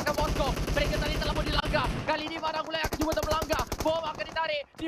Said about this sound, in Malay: ada tembakan daripada satu kawasan yang berbeza